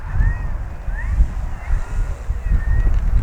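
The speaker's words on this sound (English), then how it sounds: "it's just too windy" Strong wind buffets the microphone in heavy, uneven gusts at an RC airfield, with a faint high whine and a rush like surf beneath.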